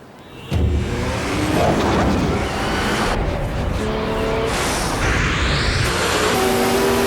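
A Nissan Maxima with 265 horsepower, its engine roaring loud and close with tire squeal and a rush as it speeds past, the roar staying sustained to the end.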